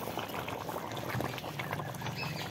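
Pomfret fish going into a pot of simmering potato curry with the potatoes cooked soft, giving a steady, close bubbling and wet spattering that runs evenly throughout, with no voices.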